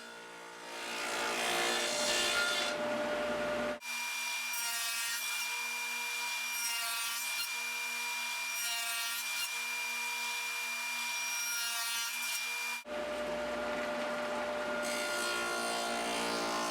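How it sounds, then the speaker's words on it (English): A saw cutting dados in wood for a nail box holder, a long steady rasping cut between louder bursts at the start and end, with no voices. "And cutting the dados."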